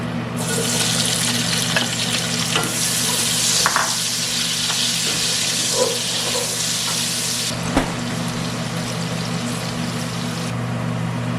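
Onion and leek frying in vegetable oil in a pan, a steady close hiss and crackle that runs alone throughout, with a low constant hum underneath and a few soft knocks.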